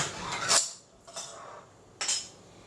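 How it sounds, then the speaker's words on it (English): A can of coconut milk being opened in a home kitchen for a cranberry pudding: three short metallic scrapes and clicks of the opener, close and distinct, with quiet pauses between. "I will open this can of coconut milk"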